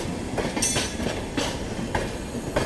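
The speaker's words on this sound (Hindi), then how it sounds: "सामने से जा रही है आप लोगों की सिकंदराबाद से चलकर नई दिल्ली की ओर जाने वाली दक्षिण सुपरफास्ट एक्सप्रेस" The Dakshin Superfast Express, bound from Secunderabad to New Delhi, thunders past close by as a loud, continuous rumble with repeated bursts of wheel clatter over the rail joints, and no voices are heard.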